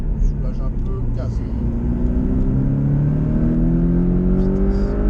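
A Porsche Cayman 718T engine revs hard on a race circuit during a driving course, its rising pitch climbing steadily as it accelerates, loud and close from inside the car, with an instructor's voice heard over it.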